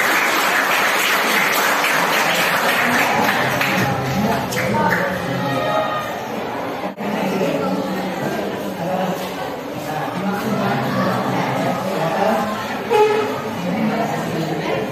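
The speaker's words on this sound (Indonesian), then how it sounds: "Oke, tepuk tangan untuk kelompok 1." Classroom applause for a presenting group of students, a dense, steady clapping from many hands that fills the room throughout, with some voices mixed in.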